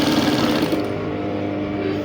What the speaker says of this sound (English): So I'm going to place my machine underneath it like this and then sew my boning.